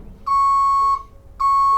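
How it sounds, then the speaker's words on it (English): A truck's reversing alarm sounds two loud, steady electronic beeps, each lasting about half a second, separated by a short pause. "We can see we have backup lights as well as the backup alarm."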